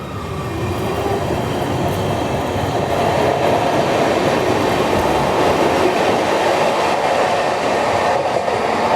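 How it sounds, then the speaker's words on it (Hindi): Hyderabad–New Delhi Telangana Superfast Express crossing near Necklace Road in Hyderabad, a loud, steady rumble of rolling wheels and clattering cars that stays constant throughout with no voices. "Crossing Hyderabad new Delhi Telangana superfast express."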